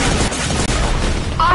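Anvil launcher weapon firing in a chaotic video game match, a dense burst of explosive, gunfire-like blasts filling the clip, loud and continuous with a brief dropout midway and a tone near the end.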